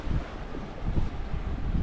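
Steady wind buffeting the microphone outdoors on a seaside rock, a low rumbling gusty roar that rises and falls without pause.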